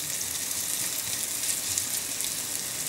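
Onions frying in a pan give a steady, dense sizzle that holds evenly throughout, close and fairly loud, with no talk over it.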